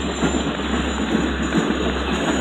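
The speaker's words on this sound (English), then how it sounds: "I think it is the Oyster Bay train." Oyster Bay commuter train passing in rain, a dense, steady rumble and hiss of wheels and spray, loud and close, filling the whole stretch without any voices.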